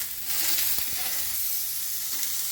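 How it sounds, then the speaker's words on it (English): Broccolini searing on a hot barbecue grill gives a steady, close hiss of sizzling with no talking, a few faint ticks breaking through the broad wash. "We just sear that on the barbecue"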